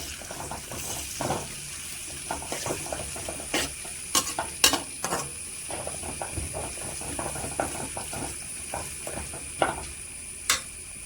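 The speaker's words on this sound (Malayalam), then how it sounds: "അപ്പം നമുക്കിതിലോട്ട് ഇഞ്ചി വെളുത്തുള്ളിയുടെ പേസ്റ്റ് ഇട്ട് കൊടുക്കാം. അത് നന്നായി മിക്സ് ചെയ്യാം." Ginger garlic paste being stirred into sautéed onions in a pan for a Kerala-style chicken curry: a soft continuous sizzle broken by frequent close clicks and scrapes of a spoon against the pan, with no voices.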